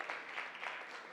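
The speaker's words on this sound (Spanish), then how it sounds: "nos le dimos el merecido aplauso" Brief burst of clapping from a gathered audience, soft and somewhat distant, steady patter without cheers.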